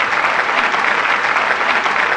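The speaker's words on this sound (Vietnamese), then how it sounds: "Xin khán giả cho tôi một tràng pháo tay để cổ vũ lên nào" Studio audience applause on a Vietnamese television game show, a loud, dense and even wash of clapping hands that holds steady without any talk.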